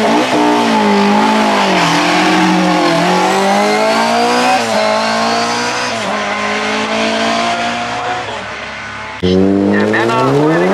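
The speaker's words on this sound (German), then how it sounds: "fährt einen Mazda MX-5 in der Gruppe H" A Mazda MX-5 Group H race car at a hill climb slalom in Bad Liebenstein roars close and loud, its engine rising and falling through gears with tire noise, while a commentator talks over it.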